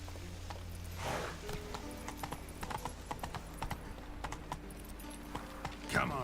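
Horse Roach's hooves clip-clop steadily in The Witcher video game, a continuous rhythmic patter of hoofbeats at moderate loudness with a brief louder flourish near the end.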